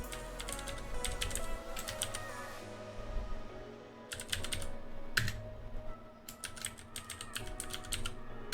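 Rapid keystrokes on a computer keyboard while logging in to an Ubuntu 20.04 server, close and clear, coming in quick bursts separated by short pauses over a low background hum.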